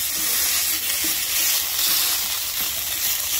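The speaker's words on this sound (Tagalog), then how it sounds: "Magigisa po tayo ng konting corned beef lang" Frozen corned beef sautés in a hot pan, giving a steady, close, bright sizzle and hiss that runs continuously with faint crackles and small stirring bumps underneath.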